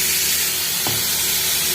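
Onions sizzling in hot tempering oil, a constant close hiss with one soft stir or clunk midway.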